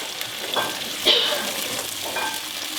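Tomato paste sautéing in a pan while being stirred: a steady soft sizzle with occasional scraping strokes of a utensil, close and moderately quiet.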